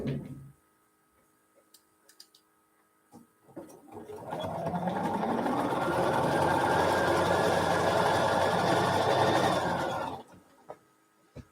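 A sewing machine stitches quilt strips for string piecing, running steadily for about six seconds after a few faint clicks and settling back to quiet at the end.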